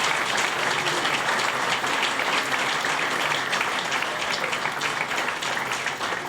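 Steady, dense applause from an audience at a Men's Table community event, holding loud and even for the whole stretch with no voices over it.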